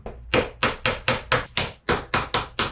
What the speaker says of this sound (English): I'm going to temporarily clamp this with my Craig clamp and glue up and drive in the splines